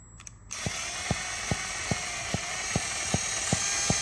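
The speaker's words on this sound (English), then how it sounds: "We're just going to connect the drill to this end, rotate the engine" A steady high mechanical whir with sharp, evenly spaced clicks about every half second, as a drill spins a stripped and rebuilt RC nitro engine that ticks on each turn.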